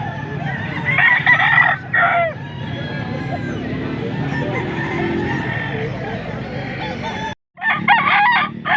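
A full gamecock stag crows loudly and close by, with other roosters crowing and clucking around it at a busy fowl market, and people talk in the background.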